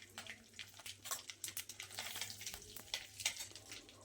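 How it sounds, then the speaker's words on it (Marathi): Mustard seeds, cumin, asafoetida and curry leaves sizzle and crackle in hot oil for a bitter gourd stir-fry, a soft, steady frying hiss broken by quick pops and spatters, heard alone without voices. "तेल चांगलं तापलं की यामध्ये मोहरी, जिरं, हिंग, कढीपत्त्याचे पानं आणि आपल्याला इथे हळद घालायची"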